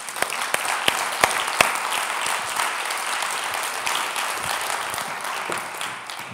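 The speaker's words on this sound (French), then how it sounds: "on peut l'applaudir." Audience applause at an evening lecture event welcoming a philosopher onstage, a steady dense patter of many hands lasting throughout with a few sharper individual claps near the start.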